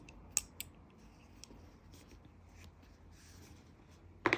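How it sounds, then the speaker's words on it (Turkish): Scissors snip crochet yarn for a mosaic-pattern blanket: a few faint, quick clicks early in a quiet room, then a louder, closer cutting snap at the end. "Ve ipimi kesiyorum."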